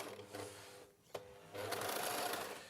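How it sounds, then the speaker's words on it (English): A sewing machine stitching elastic into underwear, its fast needle chatter running quietly with a brief pause in the middle before resuming at a steady pace. "So that's sewn the elastic in"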